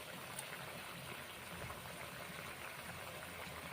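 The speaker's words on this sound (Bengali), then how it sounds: "ফুটছে মুসুরির ডাল।" A pot of thin, lightly spiced masoor dal (red lentils) bubbling at a boil, a soft steady burble heard close and alone, without talk.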